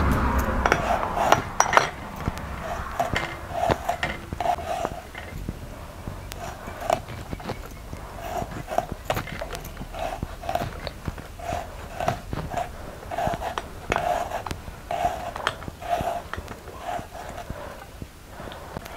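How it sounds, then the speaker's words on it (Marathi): Tomatoes and coriander are chopped with a knife, giving steady, evenly spaced taps on a board close by, with some clattering of utensils early on and faint talking underneath. "आपण टमॅटो, कोथिंबीर वगैरे चिरून घेऊया"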